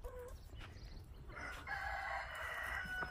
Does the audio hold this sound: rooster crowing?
yes